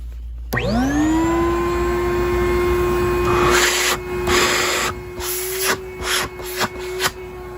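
An Oreck XL Pro 10-quart industrial backpack vacuum cleaner switches on with a rising whine and settles into a loud, steady motor drone, while rubbing and bumping noises come and go over it.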